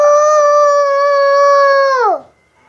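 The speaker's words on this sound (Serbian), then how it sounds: "Kako kaže petao? Kukuriku." A rooster crows once, a long, loud, close, steady call that holds its pitch and then drops off sharply at the end, followed by near silence.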